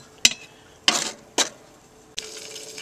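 Charcoal being loaded onto a cast-iron Dutch oven lid outdoors: three sharp clinking, scraping impacts spaced about half a second apart, then a longer rough scrape, close and fairly loud, with no speech.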